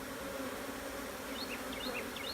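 A honeybee swarm drones in a continuous close buzz as frames are moved from a 4-frame swarm trap, with individual bees whining past now and then over the steady hum.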